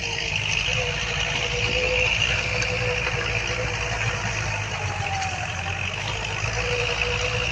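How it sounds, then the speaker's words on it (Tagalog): A tractor tills farm soil, its engine droning steadily and fairly close with a constant rumble and a faint whine. "Pinapa-traktora natin ito para madurog yung lupa."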